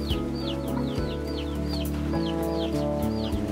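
Chickens cluck and chirp repeatedly beneath slotted-floor goat pens in a vertical integrated pasture system, several birds close by over a steady loud low hum.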